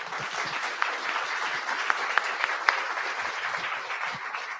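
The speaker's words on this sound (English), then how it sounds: "First round of applause" Steady applause from a conference audience after a technical talk on TypeScript, with a few sharp individual claps standing out, continuous for several seconds.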